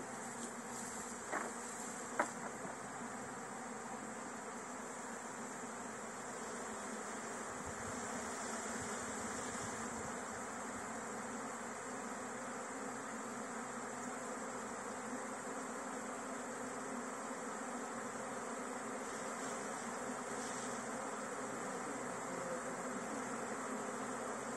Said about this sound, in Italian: le api si mettono sempre in posti molto scomodi